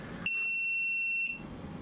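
A chronograph watch lets out one sustained high electronic beep lasting about a second, clear and fairly close over a low background hum, with no speech.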